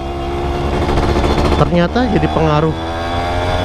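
An F1ZR motorcycle fitted with a CLD C1 racing exhaust drones loudly with a steady, buzzing engine note that rises and wavers in pitch while someone talks over it.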